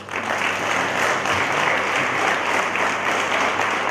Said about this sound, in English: Why don't we clap for yourself?